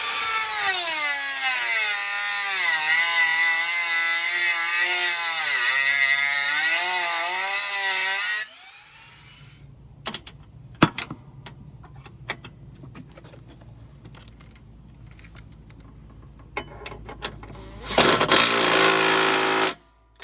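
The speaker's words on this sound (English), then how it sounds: "So I'm going to grind that one down a little bit" A bolt is ground down on a Toro Timemaster mower with a broken spindle bolt. A loud, steady grinding whine runs for about eight seconds and shifts in pitch, then come quieter scrapes and clinks, then a second short loud burst near the end.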